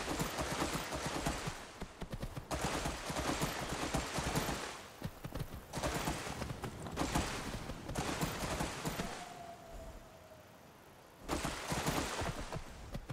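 Hooves of a horse wading across water in the game Skyrim, bursts of splashing clip-clop in repeated clusters with short quieter gaps, one brief whistling tone partway through.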